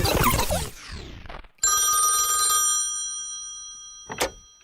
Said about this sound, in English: a phone call, like ring, ring, hello